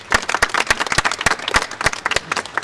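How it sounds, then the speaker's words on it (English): Audience at a live panel event clapping in a brisk round of applause, many sharp hand claps close and loud, with no speech. "let's have a round of applause for Caroline."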